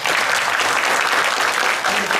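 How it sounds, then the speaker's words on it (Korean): Audience applause welcoming a lecturer to a municipal-vision lecture series, a steady, dense burst of many hands clapping close and loud throughout, with no talk over it. "큰 박수로 먼저 시작하니다"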